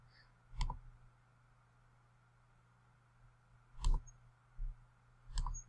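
Crisp computer mouse clicks while selecting WordPress themes: a single click, a long pause, then a cluster of three close clicks near the end, sharp and near against a quiet background hum.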